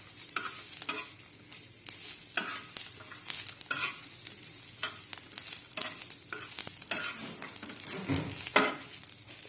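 Chilies roasting in a pan for a village-style kharda, stirred again and again so that scraping strokes repeat over a constant crackling sizzle, close and fairly loud, with no voices.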